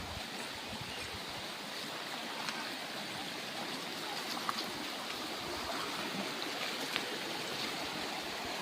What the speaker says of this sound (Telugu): కాలువ అయితే వచ్చేస్తుందండి